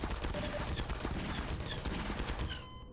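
Rapid gunfire aimed at a turret in the Half-Life 2 video game, a dense unbroken volley of loud close shots that stops abruptly near the end, leaving a brief fading tail.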